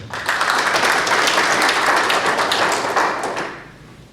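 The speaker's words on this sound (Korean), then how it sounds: "박수를 맞이해 주시기 바랍니다" A loud, dense round of applause rises from the audience at an alumni association board meeting in Seoul, held steady for several seconds before fading out.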